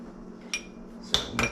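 Tartar sauce being mixed with white vinegar and lemon juice in a bowl, heard as a few sharp clinks of a utensil against the dish, close and sparse.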